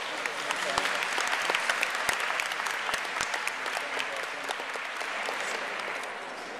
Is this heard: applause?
yes